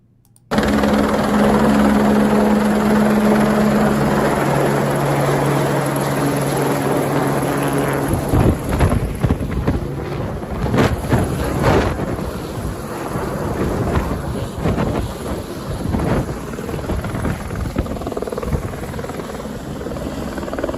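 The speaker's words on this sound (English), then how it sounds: "The helicopter is Customs and Border Protection." A Customs and Border Protection helicopter roars loud and close with a steady rotor drone and a low thudding beat, then the noise turns gusty and buffeting as it keeps going without any voices.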